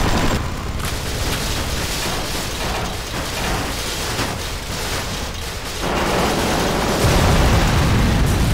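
A loud video game explosion rumbles under dense, continuous mechanical noise, swelling into a heavier boom toward the end with no voices.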